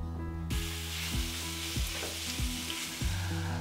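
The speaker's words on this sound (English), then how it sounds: "Let's go to the frying pan and cook it up." Steady, close sizzling of bacon frying in a pan, crackling continuously with a low hum underneath and no voices.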